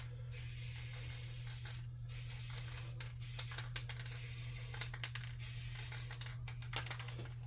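Repeated bursts of black aerosol spray paint hiss onto a miniature golem model, close by, with short pauses between sprays over a faint steady hum.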